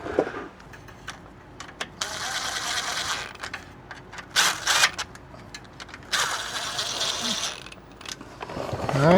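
A tool runs bolts into a Ford F150 6R80 transmission, making continuous whirring, ratcheting mechanical noise in surging bursts, loud and close, with workshop background throughout.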